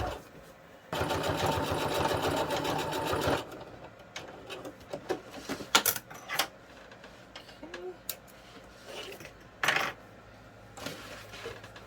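A sewing machine runs in one steady burst of rapid stitching while sewing a stiff bag, followed by scattered clicks, taps and handling knocks nearby, with no speech.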